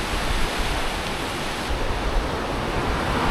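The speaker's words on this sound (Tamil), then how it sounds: "ஹைவேல உள்ள ஒரு முக்கியமான நதி" A river in the Pamir region of Tajikistan rushes in a loud, steady broadband roar of flowing water, continuous and close, with no voices.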